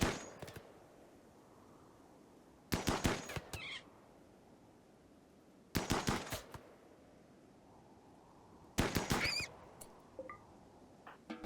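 Assault rifle fire in the Rimworld video game as a colonist shoots a rodent on an ice sheet: three short, loud bursts of rapid shots spaced a few seconds apart, with a faint single crack at the start and quiet ambience between.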